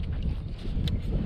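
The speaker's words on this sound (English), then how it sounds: "it's really windy out here" Steady wind buffeting the microphone outdoors while bass fishing, a low rumbling roar that stays constant with no voices.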